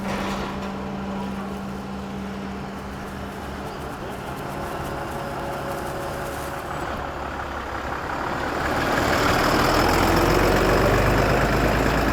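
A heavy vehicle drives into an area where a fox family lives: an idling engine hums steadily, then a louder, deeper engine rumble builds and stays close, with faint birds in the background.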